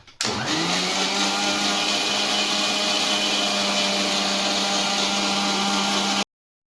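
A kitchen mixer grinder blends plum cake batter, its motor starting abruptly and running at a loud, steady whine for about six seconds before cutting off.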